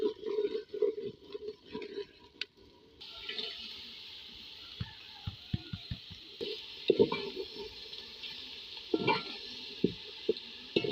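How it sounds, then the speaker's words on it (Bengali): Potatoes with salt and turmeric stirred in a pan for a North Bengal aloo ghati, with soft scraping stirs and scattered knocks over a low sizzle, fairly quiet and without talk. "এখন সব নেড়ে ছেড়ে নেব।"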